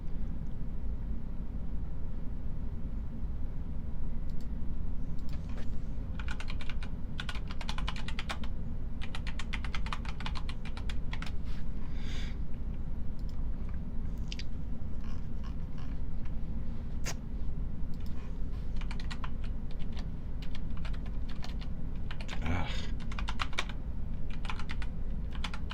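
Computer keyboard typing runs steadily for the whole stretch, with dense clusters of key clicks that bunch into faster bursts at some moments, heard close and fairly loud over a low background hum.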